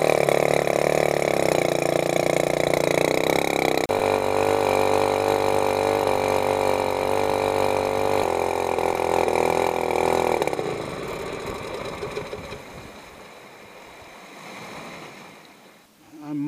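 A mud motor boat engine running lean drones loud and steady with a harmonic tone, then drops off and sputters unevenly near the end.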